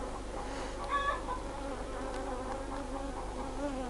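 Honeybees buzz steadily around a disturbed honeycomb, a close, continuous droning hum with a few brief higher whines as individual bees pass near.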